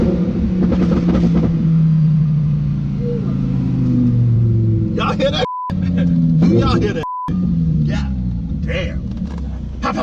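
A wide-body Lamborghini Huracan engine rumbling and revving through its exhaust, with rising and falling engine tones heard close up under loud conversation, interrupted by two brief censor beeps.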